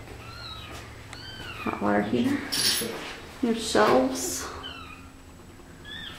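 A cat meows several times inside a converted carport garage with shelves and a water heater, its short calls rising between people talking nearby.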